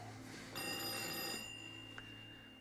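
A bright telephone bell rings steadily for about a second, then stops, leaving a low background hum with one faint click after.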